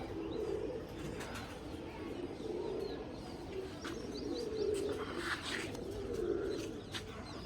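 Pigeons, adults and young, coo in low, repeated rolling calls, with occasional faint chirps from other birds nearby.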